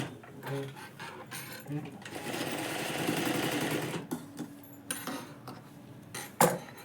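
Sewing machine stitching the layered fabric of a small frock for a one-month-old baby, a steady continuous whir of fast stitching for about two seconds in the middle, with brief shorter bursts and clicks before and after.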